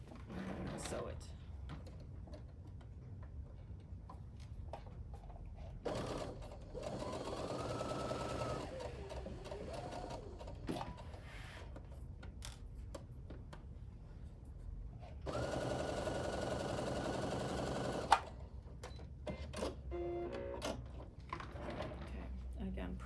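A sewing machine stitches quilt block seams in two steady runs of whirring, separated by quiet handling, with someone talking softly in between.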